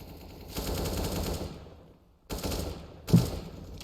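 Automatic gunfire in an esports shooter video game match, bursts of rapid shots in two or three runs separated by short pauses, with a sharp louder report near the end and no talk.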